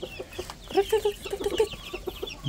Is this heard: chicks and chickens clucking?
yes